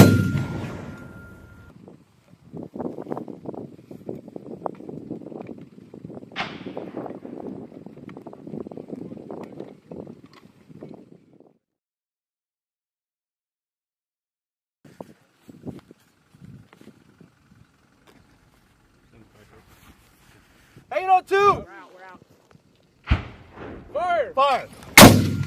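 M252 81 mm and M224 60 mm mortars fired by Marines during a field exercise, loud booming reports with rolling echoes, bursts of shots separated by quiet stretches, outdoors at a distance.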